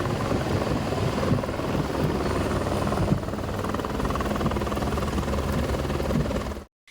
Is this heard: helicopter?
yes